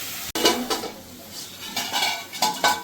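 Spoon stirring and scraping spiced masala in a metal pot for egg curry, with repeated clanking strikes against the pot and a soft frying sizzle underneath, close and fairly loud.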